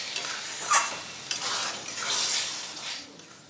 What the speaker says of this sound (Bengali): একটু নাড়াচাড়া করে নিয়েছি,